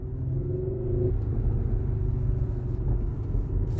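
An Audi SQ5 driven on the road gives a deep, steady engine rumble from inside the cabin, loud and continuous with no voices.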